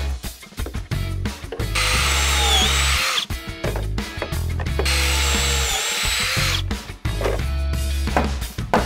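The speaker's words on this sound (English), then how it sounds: "let's go drill some pocket holes in it" A power drill bores pocket holes into dimensional lumber for pocket screws, whirring loudly in two long sustained runs with short starts and stops between them, close up and with no talk.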